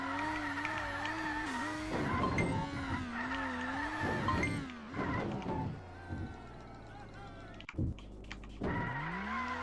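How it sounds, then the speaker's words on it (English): A car drives in the video game Clumsy Fred, with a wavering engine whine, revving pitch changes and skidding tire sounds, loud and close. "Fred does have a car. And there's a bunch of levels where you're just driving a car."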